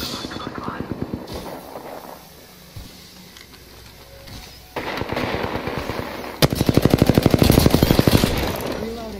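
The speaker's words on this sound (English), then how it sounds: "Shots fired, and they're hitting me." Weapon fire in the Apex Legends battle royale game, bursts of rapid automatic shots that build louder toward the end, with other game sounds between the volleys.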